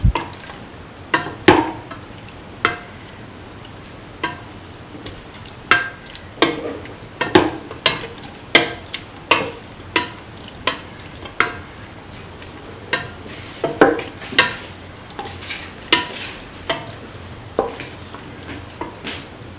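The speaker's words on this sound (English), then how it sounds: "Mix the tomato pieces with the beef." Tomato pieces mixed into beef in a pot for a bottle gourd stew, with a steady sizzle under a series of spoon scrapes and clinks, irregular but frequent, close and fairly loud.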